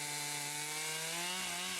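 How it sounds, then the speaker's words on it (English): A chainsaw roars steadily as it cuts down through a big cedar log, a loud close engine whine holding pitch and then dipping slightly as the cut deepens. "the chainsaw roars and goes right down through the log"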